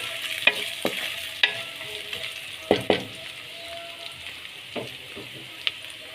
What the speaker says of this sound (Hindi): अदरक लहसुन को भी हमने थोड़ा सा पकाना है ताकि इसका जो कच्चापन होता है वो हमने ख़त्म करना है।